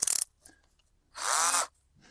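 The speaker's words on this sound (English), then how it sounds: "It's a pretty good drill. 21 volt." A 21-volt cordless drill drives self-tapping screws into a car body: a short snap at the start, then one whirring burst of about half a second between quiet gaps.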